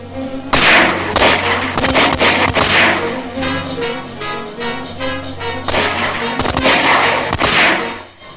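Gunfire in a western shootout between a sheriff's posse and outlaws in open rocky country, a series of loud close sharp shots and booms in irregular bursts with echoing tails.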